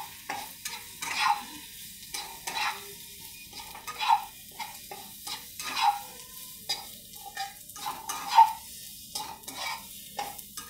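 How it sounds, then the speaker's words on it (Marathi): Vegetables sizzle in a pan as turmeric and red chili are stirred through, with repeated scraping strokes of a spoon every second or so over a steady frying hiss, close and clear with no talking. "थोडीशी हळद टाकू, लाल तिखट, मिक्स करून घ्यायचं"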